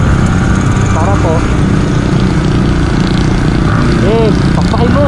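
A Yamaha R15 v3 motorcycle fitted with a new 14T-50T chain and sprocket rides with a steady, loud engine drone and wind roar, with a rider's voice talking over it.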